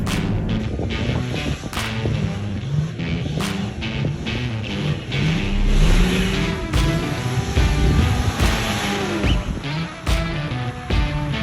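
Cars driving at Bellingham, with loud engine noise rising and falling through repeated gear changes and throttle bursts, sharp popping cracks, and a close, continuous roar throughout with no talk.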